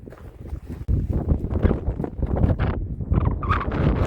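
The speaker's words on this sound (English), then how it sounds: "Hopefully the wind won't get any worse." Gusty wind on a road beside a stream near a Nevada hot springs, rough low buffeting against the microphone that rises and falls unevenly the whole time.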